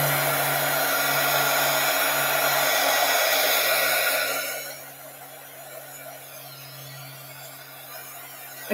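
Hair dryer blowing on a wood piece soaked in Murphy's oil soap, a loud steady whirring hum that drops to a quieter, lower setting about halfway through, close by with no talk.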